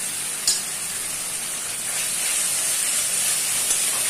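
Fish stuffing hits a pan of spiced masala with coriander powder, red chilli powder and salt, giving a steady, close frying sizzle and hiss throughout, with a brief brighter crackle near the start.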